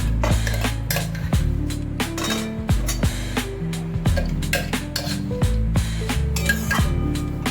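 Mung dal lentils tipped into a metal cooking pot for a bitter gourd and bottle gourd dish, giving repeated close clinks and clatters of utensils against the pot with steady rattling, no talking.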